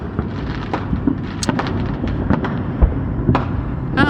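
Fourth of July fireworks burst repeatedly at a distance, a steady rumbling crackle punctuated by sharper pops and booms that echo over one another throughout.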